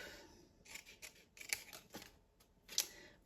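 Scissors cutting scrapbooking paper along a fold line for an Advent calendar, a run of several crisp snips with a louder final cut, close and quiet with no voice.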